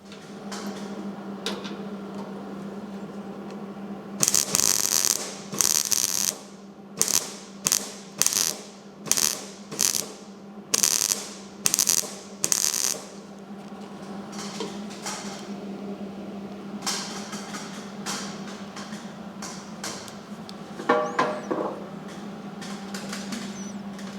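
Vice grips snap and ratchet shut on sheet metal above the windshield of a 1955 Chevy truck under rust repair, a quick run of sharp mechanical clicks and clacks close by over a steady low hum, with sparse clicks later.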